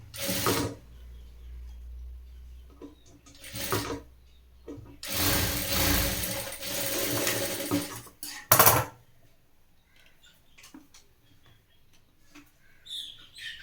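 Sewing machine stitching the top of a midi dress, with short bursts of running motor and needle clatter separated by pauses and small handling clicks.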